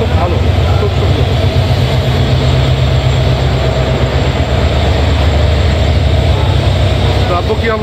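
A train rumbles loudly and continuously across the New Jamuna rail bridge, a dense low roar with rhythmic rattling heard from inside a carriage, while voices murmur beneath.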